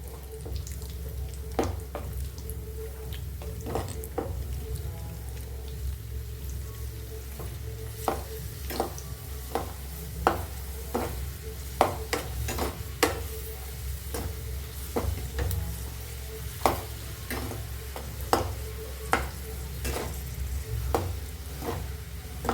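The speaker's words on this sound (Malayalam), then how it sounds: "മുന്തിരിയും മൊരിച്ചെടുക്കാം" Raisins fry in a pan of oil for biryani, with a continuous low sizzle under repeated scraping stirs and light clicks of a utensil against the pan, close and fairly quiet.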